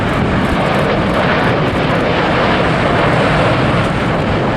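A jet airliner roaring during takeoff at LAX, a loud continuous broadband rumble that fills the whole stretch without letup.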